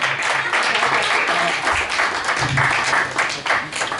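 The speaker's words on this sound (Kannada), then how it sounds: "ಜೋರಾದ ಚಪ್ಪಾಳೆ ಬರಲಿ" An auditorium crowd at an anniversary event applauding steadily, dense clapping filling the room for several seconds, with some voices mixed in.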